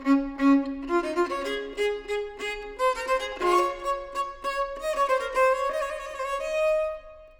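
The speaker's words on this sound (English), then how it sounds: "that is what the music would sound like if I just played it on my normal violin" A passage from a Bach Brandenburg Concerto played solo on a normal violin, a quick run of bowed notes climbing steadily upward, clear and close with no accompaniment.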